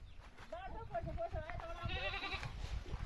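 A goat bleats in a Nepali village setting, a few wavering mid-pitched cries close by, with people talking underneath.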